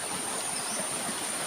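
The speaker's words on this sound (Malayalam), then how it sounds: "ഞങ്ങളുടെ കുഞ്ഞു തോട് കാണുന്നുണ്ടോ?" A small rain-fed stream flows past, a soft, steady trickling rush that stays even and close throughout, with no voices.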